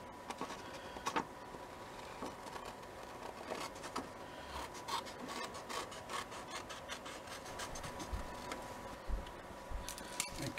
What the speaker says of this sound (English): I'll use some a nail file or a piece of sandpaper to make the edges crisp